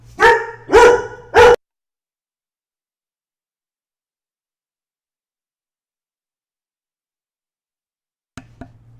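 A startled dog gives three loud, close barks in quick succession after an ice machine drops its ice indoors, then silence, with a faint noise returning near the end.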